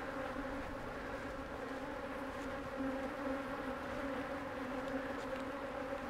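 Honey bees buzz around a beehive in a continuous, fairly faint, even drone that holds steady throughout with no talking.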